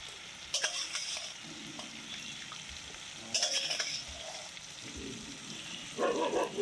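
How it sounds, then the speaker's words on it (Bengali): Paneer frying in hot oil for a curry, a soft continuous sizzle broken by several louder bursts of stirring and scraping in the pan, with no talking. "পনির ভাজা হয়ে গেছে নামিয়ে দেবো"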